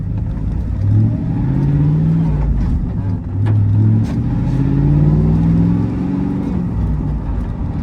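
A manual V8 Sierra Regency Edition truck drives along with a steady, close engine drone that swells and eases in waves as it accelerates through the gears, with no talking.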